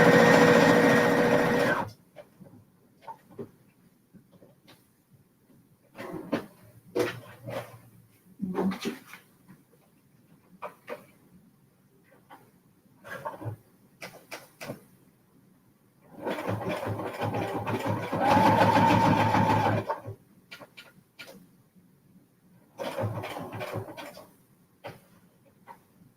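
Sewing machine stitching an altered index card, heard in short whirring bursts of varying length separated by quiet pauses, close and moderately loud, with a longer steady run near the end.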